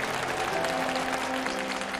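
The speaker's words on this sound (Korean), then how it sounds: "사람들은 박수갈채를 보내며 그의 의견을 지지했습니다" A crowd at a public gathering bursts into dense, continuous applause after a speech, a steady wash of many hands clapping close and full for about two seconds, with a faint steady tone underneath.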